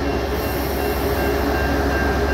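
A short local train, four cars long, rumbles through a station in the USA. A loud, steady rolling roar with faint wheel squeal fills the whole stretch.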